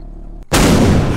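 Gunfire in a video game bursts in loudly after a brief quiet moment and keeps roaring as a dense, sustained blast.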